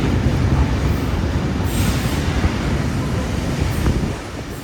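A train rumbles steadily along the rails close by at a transport heritage expo, a continuous heavy roar with faint high squeals, easing off slightly near the end.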